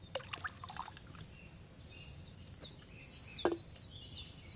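Wine trickles and pours into a cauldron in Kingdom Come: Deliverance II, a faint, thin liquid splash under soft ambient outdoor noise, with birdlike chirps and a sharper knock partway through.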